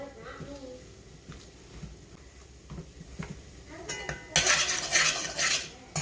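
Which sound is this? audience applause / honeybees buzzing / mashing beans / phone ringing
mashing beans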